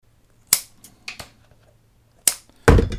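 A plastic model part is cut with a few sharp, separate clicks and snaps close by. The last snap is the loudest, and quiet pauses fall between them.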